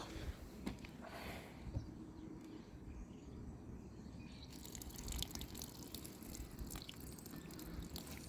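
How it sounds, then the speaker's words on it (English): Water from a watering of young cloned plants drips and trickles into damp soil, faint and close with scattered small drops over a quiet background hiss, no voices. "let's water this puppy. Yeah, let's give them some water."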